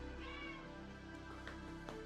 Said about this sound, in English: He'll just sit there and meow at you.